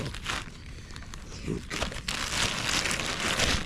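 A plastic bag crinkles and rustles close by at a wild campsite in the UK, an irregular crackling that grows busier and louder toward the end.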